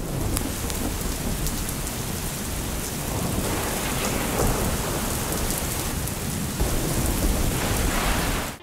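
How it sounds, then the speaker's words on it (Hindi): Torrential rain is falling during a storm in Punjab, a dense, steady roar of downpour hitting surfaces, loud and unbroken from start to finish with no voices. "पंजाब के कई शहरों में मूसलाधार बारिश का सिलसिला जारी है"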